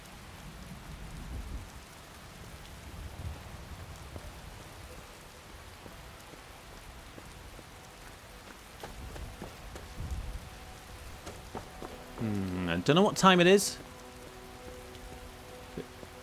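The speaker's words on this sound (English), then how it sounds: "Hard to tell now that the rain's come in" Steady rain falls in Skyrim, a soft continuous patter with a few low rumbles, while someone speaks briefly near the end.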